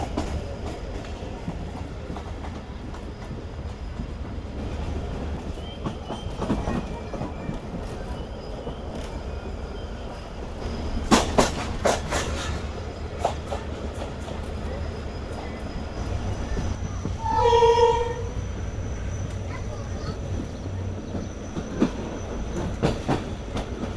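A short passenger train on the Mirpurkhas to Karachi line rolls along the rails on a foggy morning, a steady rumble from inside with clickety-clack wheel beats and a brief squeal partway through.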